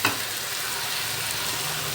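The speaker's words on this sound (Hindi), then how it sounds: "इसको अच्छे से फ्राई कर लेना है" Fish frying in a pan for chilli garlic masala gives off a steady, dense sizzle, loud and close, with a brief stirring clatter right at the start.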